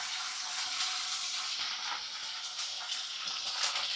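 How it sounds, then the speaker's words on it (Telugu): Chicken pieces and green chilies fry in an iron pan, giving a steady, close hiss and crackle of hot oil that runs evenly throughout without pause or talk. "ఇప్పుడు ఫ్రై చేస్తున్నాను కదండి"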